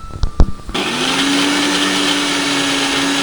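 After a couple of brief clicks and knocks, a mixer grinder switches on and grinds ginger into paste in a home kitchen, a loud steady electric whine holding at constant pitch to the end.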